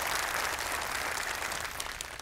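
Sustained audience applause at a Quran recitation contest, dense and steady throughout, without any voices over it.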